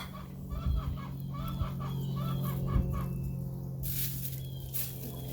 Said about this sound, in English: I hear a lot of birds out there.